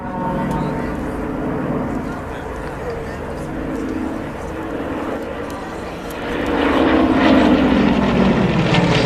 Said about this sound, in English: Dave Boardman flies towards them, the solo, tipping down from the far side of the airfield.